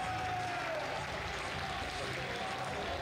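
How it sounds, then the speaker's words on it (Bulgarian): A boxing-event audience in Plovdiv cheers and claps in a steady, distant roar of applause and crowd noise, with a faint voice running underneath. "Да, чуваме публиката, явно е"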